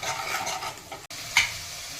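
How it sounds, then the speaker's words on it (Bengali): Spices for veg Manchurian fry quietly in a pan while being stirred, giving soft scraping strokes over a low sizzle, with one sharper scrape near the end. "মশলাটা বেশি ভাজা যাবে না,"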